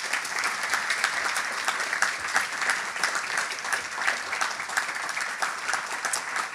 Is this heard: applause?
yes